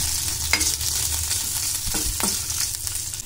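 Green chillies, garlic and cumin frying in a pan for a spicy red chutney, with a continuous close sizzle and a few stirring scrapes.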